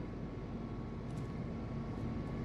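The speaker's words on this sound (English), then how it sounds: "I can hear an engine." A diesel engine runs in an outdoor farm setting, a steady low rumble with a faint hum that holds even and unbroken throughout, with no voices.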